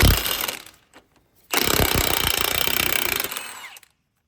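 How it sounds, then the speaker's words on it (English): A half-inch impact wrench hammers at a 21 mm ball joint nut on a 2005 Volvo XC90, a brief burst followed by a sustained rapid rattling run of about two seconds, loud and close. "I use a 1/2 inch impact just to make my life easier."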